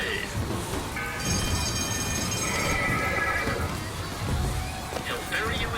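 A mechanical horse in the game Bioshock Infinite whinnies with metallic, tonal neighs, while hoof clip-clops and a busy ambient bed run underneath and a voice talks over it throughout.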